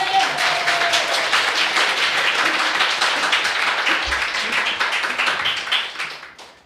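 A church congregation gives a sustained round of applause during a sermon, dense and steady clapping that fades out toward the end.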